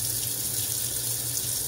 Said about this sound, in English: we turn the water on